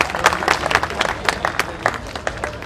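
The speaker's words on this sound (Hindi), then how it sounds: "तालियां तो बजा दीजिए प्लीज" An audience at a science and culture festival claps in scattered applause, moderately loud and irregular, with some faint voices mixed in.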